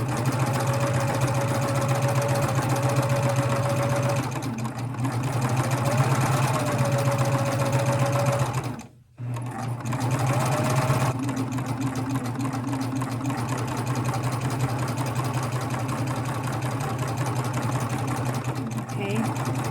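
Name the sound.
sewing machine sewing garment with binding attachment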